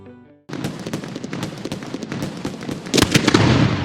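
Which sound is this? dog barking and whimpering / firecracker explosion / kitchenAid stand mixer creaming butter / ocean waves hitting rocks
firecracker explosion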